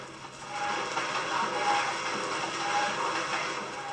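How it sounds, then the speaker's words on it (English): An 1862 Stillman & Allen steam engine drives the line-shafted equipment of a village print shop, giving a steady, continuous mechanical rumble and clatter at moderate loudness throughout, with a faint whine running under it. "This is the sound of an 1862 Stillman & Allen steam engine, which powers all the equipment in this building."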